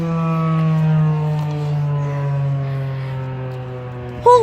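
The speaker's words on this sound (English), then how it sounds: "your first siren test" A Federal Signal 2001 SRN civil defense siren sounds during a test at Huron High School in Washtenaw County, holding one loud, steady, sustained tone throughout, with a short burst of noise near the end.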